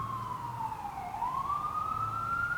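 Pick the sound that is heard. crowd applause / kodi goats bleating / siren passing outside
siren passing outside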